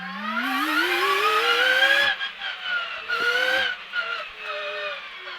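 An electric World RX rallycross car accelerates in race mode, its drivetrain whine rising steadily in pitch, loud and close, then cutting out briefly before another rising whine and a softer, broken tail.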